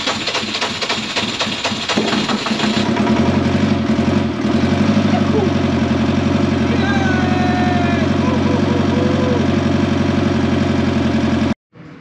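A sailboat's diesel engine, a Perkins-type marine unit freshly fitted with a rebuilt injection pump, starts and settles into a steady, loud idle with a rhythmic knocking chug. It runs continuously for about eleven seconds before cutting off.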